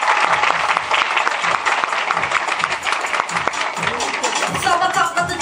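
An audience at a 2013 Çanakkale commemoration event claps in sustained, loud applause to send off the performers, many hands clapping densely and continuously with some crowd voices mixed in.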